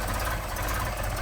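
A Mercedes 190SL engine with Solex carburetors idles while warming up, a loud and steady close rumble with no break over the short stretch.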